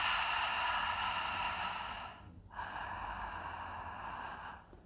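Close, breathy Ujjayi breathing constricted at the back of the throat: a long hissing, ocean-like exhale, a brief pause, then another drawn-out throaty breath, heard alone.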